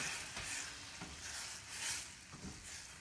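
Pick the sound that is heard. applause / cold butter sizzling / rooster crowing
cold butter sizzling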